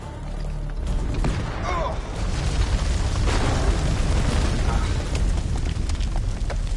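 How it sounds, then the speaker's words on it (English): A grenade explodes in the horror game House of Ashes, a heavy, sustained rumbling blast that swells and lingers with debris and crackle over several seconds. "Grenade!"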